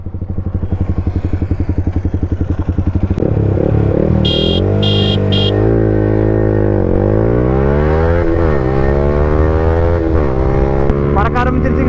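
KTM Duke 390 and Yamaha R15 motorcycles racing, engines revving hard and climbing steadily through the gears in loud, continuous close-up drones with rising pitch sweeps, a brief electronic beeping partway through.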